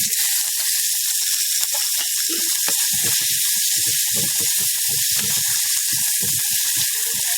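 Tomatoes dropped into hot oil in a clay pot, sizzling loudly with dense crackling pops and a constant frying hiss throughout.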